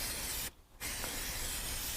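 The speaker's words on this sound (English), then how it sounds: "But I'll just spray some of this on here so you can see what it looks like" Aerosol spray hisses onto the underbody of a 2020 VW Golf R in two loud, close bursts, with a short pause between them.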